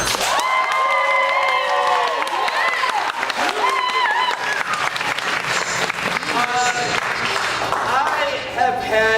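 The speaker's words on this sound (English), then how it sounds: "give a tremendous round of applause for both teams" A crowd at a High School League match applauds both teams, loud continuous clapping mixed with shouts, whoops and cheering voices rising and falling over the full stretch.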